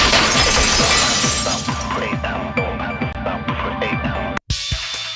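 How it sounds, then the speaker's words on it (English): A vase shatters loudly in a video game, a bright crash of breaking ceramic with scattering shards and ringing fragments that decay over several seconds before a brief silence and a following sound. "If it wasn't the window, then what broke to make that sound? A vase."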